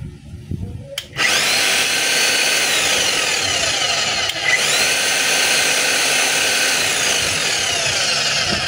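A DeWalt D25901 10 kg jackhammer starts up after a quiet moment and runs loud and steady nearby, a harsh continuous motor drone with one brief dip midway.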